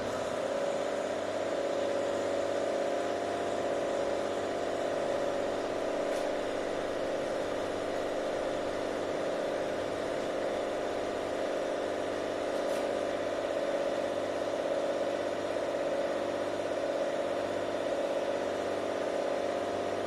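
A tensile testing machine loading a mild steel bar hums with a steady, even mechanical drone and a constant whir, unbroken for the full stretch, with only a couple of faint ticks and no voices.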